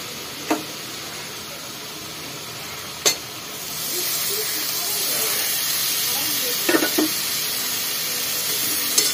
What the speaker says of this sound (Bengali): এবারে যে আমটা আমি গ্রেট করে রেখেছিলাম ওই আমটা এবারে দিয়ে ভাজা ভাজা করে নেব।